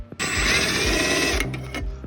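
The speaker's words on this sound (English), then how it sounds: "I'm gonna go ahead and take that screw off and that screw off right there" A power driver whirs in one steady, high-pitched burst of about a second, backing a screw out of the motor shell of a LiftMaster screw drive garage door opener, followed by a few faint clicks.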